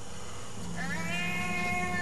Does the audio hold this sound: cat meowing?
yes